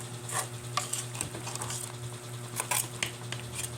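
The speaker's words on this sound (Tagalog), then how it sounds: "haluin po natin paminsan-minsan para mabaliktad po ang kanyang mga ricado" Jackfruit cooking in coconut milk is stirred in a pot, giving soft scraping and clinking of the spoon over a low simmering hiss and a steady stove hum, close and quiet.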